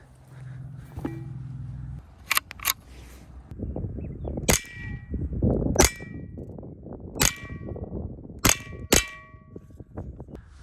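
Welded angle iron brackets made from scrap metal are struck repeatedly with a hammer, giving about eight sharp ringing metallic clangs at irregular intervals over a low background rumble.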